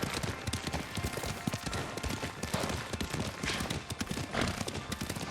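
Horse hooves clip-clop steadily while riding in Ghost of Tsushima, a brisk rhythmic stream of close, moderately loud thuds over a wash of ambient noise, with no speech.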